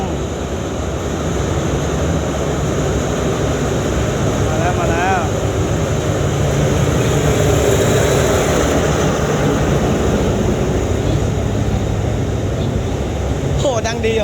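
Express train number 141 accelerating on a trip to the provinces, heard as a steady loud engine roar and rumble of rolling wheels that grows a little louder midway, with faint hissing and squeal-like whines near the end.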